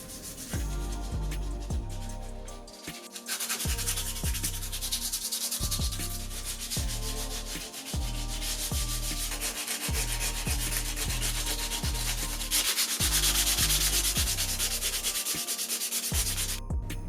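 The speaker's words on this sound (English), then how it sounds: "every statue got a thorough sanding" Steady, rhythmic scraping of sandpaper rubbed by hand back and forth over wooden nativity statues, close and continuous with brief pauses between strokes.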